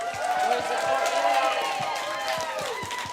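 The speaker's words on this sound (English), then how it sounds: "please give a round of applause to Andy." An audience at a bar celebration claps and cheers for a guest, with dense, continuous applause, scattered whoops and voices mixed in, fairly loud and close.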